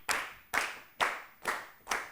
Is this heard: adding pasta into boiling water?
no